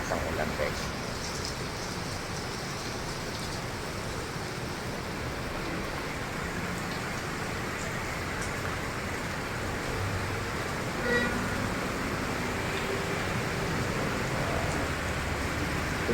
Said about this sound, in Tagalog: Napakalakas ang ulan guys.